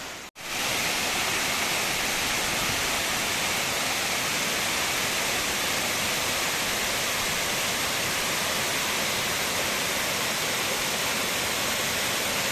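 The Cascade du Hérisson waterfall roars in a constant, loud, broadband rush of falling water that starts abruptly after a brief gap and continues unbroken with no voices.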